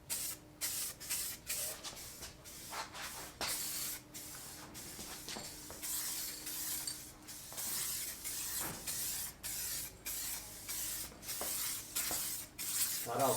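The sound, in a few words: 3M spray nozzle spraying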